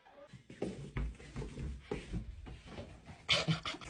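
An indoor dog pants and snuffles close by, its breathy rhythmic huffs broken by a few soft whimpers, fairly quiet throughout.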